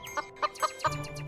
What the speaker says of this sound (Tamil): அவரோட பெரிய கோழி பண்ணையில நிறைய கோழிகள் இருந்தது.